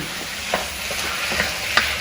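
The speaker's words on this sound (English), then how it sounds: "let's head over and stir the beef here, or the chicken." Chicken thigh stir fry sizzles steadily in a hot pan, with a few distinct scraping clicks as it is stirred and turned, close and alone.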